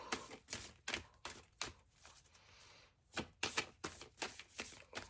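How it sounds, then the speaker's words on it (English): Tarot cards being shuffled by hand in quick riffling bursts, a series of soft crisp flutters with short pauses between, close and quiet, no talk. "going to shuffle that again because there was too many that came out"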